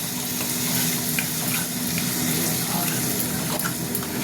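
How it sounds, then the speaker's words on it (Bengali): A little water goes into vegetables frying on high heat for a potato and cabbage dish. A steady wet sizzle and bubbling carries throughout, with faint stirring scrapes and no speech. "এবার সামান্য জল দিয়ে আমি এটা নাড়বো।"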